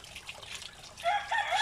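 A native rooster crows on a small farm, rising over a steady background of other chickens and faint trickling noise, with no talk.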